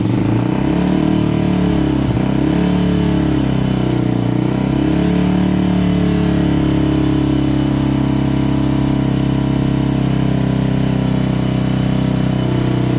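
A car engine with a modified exhaust revs up from idle to high RPM, a loud, sustained mid-range roar that rises and holds steady, close by and alone without talk.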